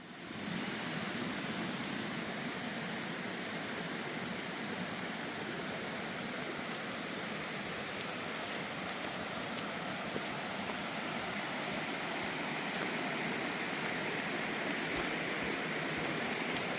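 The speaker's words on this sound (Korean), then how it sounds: "물소리를 따라 걷다 보면" A stream flows beside a trekking trail, a dense, steady rush of water that fills the whole stretch at an even level, with no voices.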